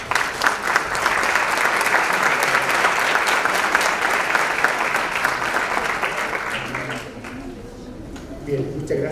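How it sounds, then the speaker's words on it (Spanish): Loud, sustained applause fills a lecture hall at an academic conference on Latin American political communication, steady for most of the stretch before tapering off toward the end, with a few voices audible as it fades. "Fuerte aplauso."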